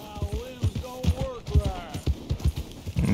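Horse hooves clip-clop in a steady walking rhythm in Red Dead Redemption 2, a black Kentucky Saddler horse moving at a moderate pace while a voice talks over the footfalls.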